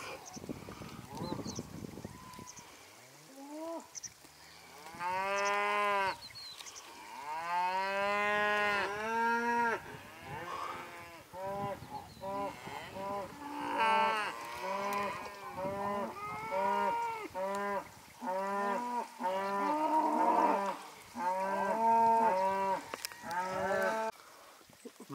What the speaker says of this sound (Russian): продаются коровы, тёлки